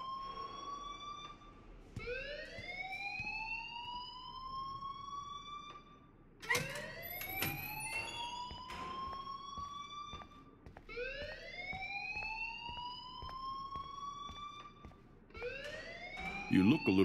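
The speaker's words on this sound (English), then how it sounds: "please turn off that alarm since that's your job" A school fire alarm in the video game Life is Strange wails in rising electronic sweeps, repeating every few seconds at steady volume while people talk underneath.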